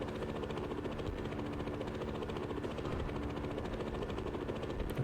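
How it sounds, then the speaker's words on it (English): A helicopter ride in the skiing video game We Ski and Snowboard gives a steady, dense rotor and engine drone that holds at a constant loudness throughout, with no talking. "You can only ride the helicopter from the bottom."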